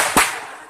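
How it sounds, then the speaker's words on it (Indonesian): A single firecracker goes off close by during a scooter outing in Palopo, South Sulawesi, giving one sharp, loud crack that fades quickly into a faint noisy tail. "Petasan."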